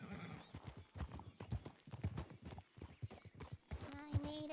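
Horse hooves clip-clop at a steady rhythm in a video game as the horse approaches, ending in a whinny, with people talking over the hoofbeats throughout.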